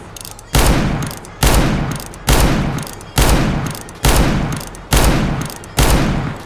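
An R8 Revolver in CS:GO fires seven loud, evenly spaced shots, each a sharp blast with a short decaying tail.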